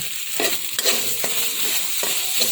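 Stir-frying a dry filling with added sugar and shallots in a pan for stuffed omelette: steady close scraping and stirring strokes with a light continuous sizzle, several distinct stirs in a short burst, no voices.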